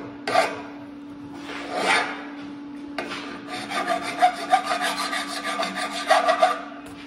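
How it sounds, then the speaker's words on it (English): Metal welds on a homemade trophy wall being sanded or filed by hand, uneven scraping strokes that start sparse then turn into a steady rasping run, close, over a faint constant hum, with no talk. "Now it's sanding the welds."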